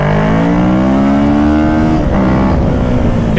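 A brand-new sport motorcycle, a Ninja 650 with an Akrapovic exhaust or a CBR 650R with an Austin Racing exhaust, revs hard toward 10,000 RPM and drops pitch at an upshift, a loud, close, continuous engine howl with no talk.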